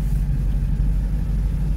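A car moves through evening traffic, its engine a low steady rumble heard from inside the cabin with no other distinct sounds.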